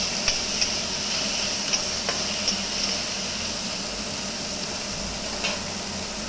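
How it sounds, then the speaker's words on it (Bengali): Onions fry in a pan until reddish, a steady close sizzle with a few sharp clicks of stirring over a continuous hiss. "পেঁয়াজ দিয়ে একটু লাল লাল করে ভাজলাম।"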